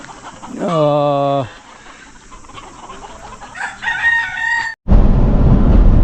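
A rooster crows loudly and close at a hillside native-chicken farm in Saudi Arabia, followed by hens clucking and squawking before a burst of broadband noise at the end.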